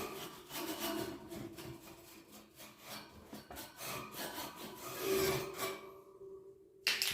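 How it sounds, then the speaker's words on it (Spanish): Soft, steady rubbing and scraping while parts of a stand fan are carefully cleaned, a quiet close-up rasping with irregular strokes that ends in near silence and a sharp final knock. "Ahí también pegamos una limpieza bien cuidadosamente, limpiamos todo."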